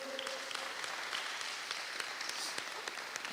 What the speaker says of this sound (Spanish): Démosle una fuerte ofrenda de palmas a nuestro buen Dios.